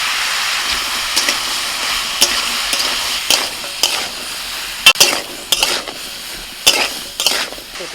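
Mixed vegetables with beet, peas, salt and turmeric for pav bhaji sizzle in a pan, with a steady frying hiss broken by repeated scraping strokes of a spatula as they are stirred, close and fairly loud.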